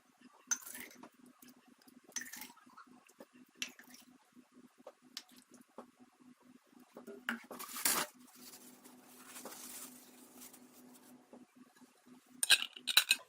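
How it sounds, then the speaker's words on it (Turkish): Glass jars of homemade sour cherry jam being closed with new metal lids, giving soft repeated clicks and small clinks of lid on glass, with a few louder knocks and rustles close by. "Üç geri bir ileri yaparak kapatıyorum."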